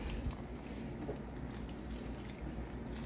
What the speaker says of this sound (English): I'm going to put some water